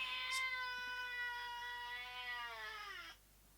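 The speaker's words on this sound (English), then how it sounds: "the cat has an opinion too." A cat lets out one long, drawn-out meow lasting about three seconds, close and clear in a quiet room, its pitch sliding gently downward before it stops abruptly.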